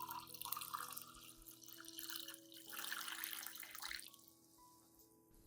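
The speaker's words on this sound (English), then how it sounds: "Next, add 500 milliliters of clean water to dilute the solution." Clean water poured into a nutrient solution for an Anthurium plant, a steady close trickle and splash with dripping that runs for several seconds before tapering off, no talking.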